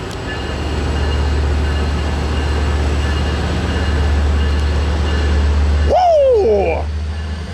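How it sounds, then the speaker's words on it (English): Metrolink commuter train on the 91 line at Fullerton, led by a PHR locomotive, rumbles past loud and close in a steady roar, then a sweeping horn blast cuts in near the end. "one of the PHRs leading this 91 line Metrolink to Paris"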